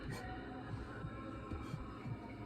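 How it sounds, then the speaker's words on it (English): A quiet heartbeat sound effect thumps in a slow, even rhythm, soft low pulses repeating over a faint background hum. "Normal heartbeat."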